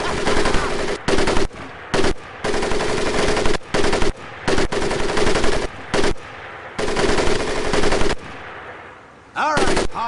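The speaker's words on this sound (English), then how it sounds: "M1919A4 30 caliber machine gun." An M1919A4 .30 caliber machine gun fires in Medal of Honor: Pacific Assault, loud and close, in a series of long and short bursts of rapid shots broken by brief pauses.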